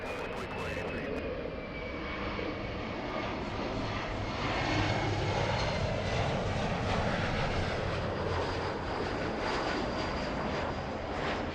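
An airliner's engines roar as it takes off from runway 24 left at Los Angeles, a steady, loud wash with a thin whine that swells slightly midway and holds to the end.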